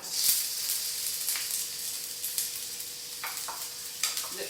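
Onions and garlic sizzle in butter and oil in a pan, a steady bright hiss with occasional louder crackles and stirring scrapes, close and alone with no talk.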